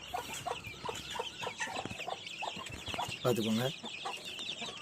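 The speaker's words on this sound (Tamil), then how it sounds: "நம்மக்கிட்ட கொஞ்சம் நாட்டுக்கோழி குஞ்சு இருக்குது" 25-day-old native chicken chicks cluck and peep in short bursts close by, with a quiet voice speaking in Tamil among them.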